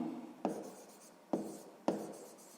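Pen or pencil writing out a sixth-grade math solution on paper, a soft continuous scratching broken by three sharper taps of the tip, close and quiet with no speech.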